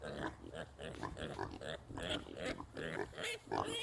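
A loose baby pig oinks and grunts in a rapid, busy string of snorts close by, mixed with talking outdoors in a garden setting.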